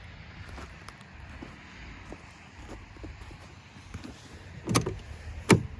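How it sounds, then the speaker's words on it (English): Door of a 1993 Ford Taurus SHO opening, giving two sharp mechanical clicks and clunks near the end against quiet background hiss. "Door opens up perfectly fine."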